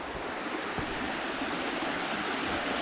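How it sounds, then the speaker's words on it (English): A creek on a short nature trail flows with a steady, dense rush of water, close and even throughout with no voices. "This is not the Mohawk River, by the way. This is just a creek."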